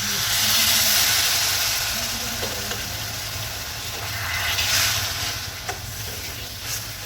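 Splash of water hitting hot ground-spice masala with cumin powder in a pan, giving a steady hiss and steam sizzle that swells and fades, with a few faint stirring clicks, no talking.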